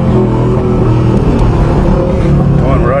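A Subaru boxer engine idles loud and close after a cold start, a dense, throbbing low rumble that holds steady throughout, with a voice talking over it.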